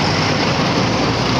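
An LRT light rail train passes close by, a loud continuous roar of rolling wheels and carriage rumble that drowns out everything else.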